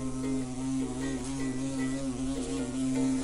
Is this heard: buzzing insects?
yes